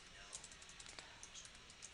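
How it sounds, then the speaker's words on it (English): Quiet, rapid keystrokes on a computer keyboard as a web address is typed, a steady run of soft clicks with a few sharper taps. "We're going to type in Picasa"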